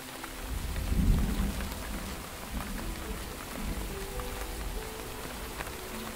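Heavy rain pours steadily with rumbling thunder swelling near the start in a virtual reality fishing game, the storm loud and continuous with no voices.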